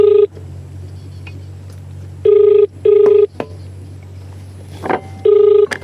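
An outgoing phone call rings on the line, repeating in short electronic bursts, some doubled, over a steady low hum during a Gujarati comedy sketch. The rings are loud and close, with quiet gaps between them.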